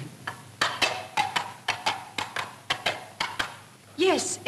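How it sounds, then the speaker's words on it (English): A horse gallops along a road, its hooves striking in a quick, steady clip-clop rhythm that stays close and clear, ending in a brief rising squeal. "Yes, it's a horse. I think it's the farmer galloping along the road."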